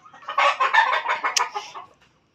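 Gamefowl chickens at a breeding farm clucking in a close, loud burst of rapid overlapping calls lasting about two seconds, then fading to silence.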